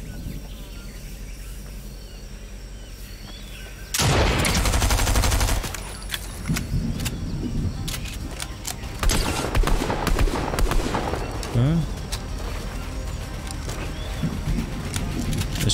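Shotgun fire in an online shooter video game, with a loud burst of rapid gunfire followed by scattered shots and clattering bangs over insect-like ambient noise.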